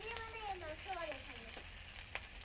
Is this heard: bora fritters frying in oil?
yes